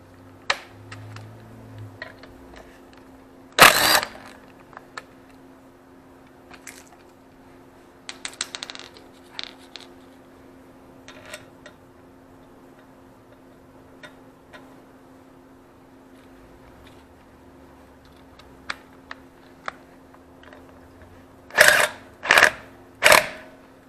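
Impact driver on automotive work breaking loose a stuck bolt, with a sharp isolated burst, a few scattered ticks and clicks, then three rapid loud hammering bursts close together at the end.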